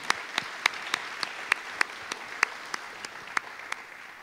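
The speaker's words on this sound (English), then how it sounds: "Let's all give Clifford another round of applause for that beautiful opening." Applause at an energy conference's cultural opening, a few distinct hand claps ringing out at a steady, slightly irregular pace over a soft background crowd patter.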